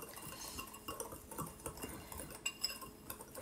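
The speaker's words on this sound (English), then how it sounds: "I'm just going to whisk all this together" Taco seasoning and arrowroot powder being whisked in a bowl, giving quiet, quick metallic clinks and scrapes of the whisk against the bowl, faint and close with no talk.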